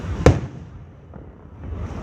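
A single sharp firework blast cracks out close and loud, followed by a fading rumbling tail and faint distant pops as the sky quiets.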